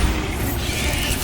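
A Bombarda blasting spell explodes in the Hogwarts Legacy video game, a short dense booming burst with a heavy low rumble and rushing debris noise that fills the whole moment without any voice.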